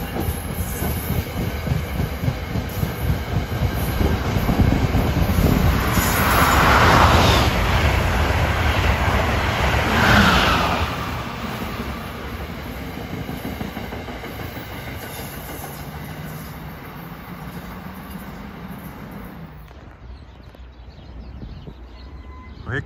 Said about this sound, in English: Here comes Amtrak, New York, Harrisburg, 602.